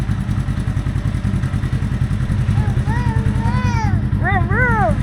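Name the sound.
child imitating an engine, saying vroom vroom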